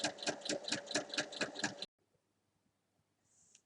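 Sewing machine stitching the hem of a fabric bag, a close, fast rhythmic needle chatter for about two seconds that then stops, leaving near silence and a brief faint high tone at the end.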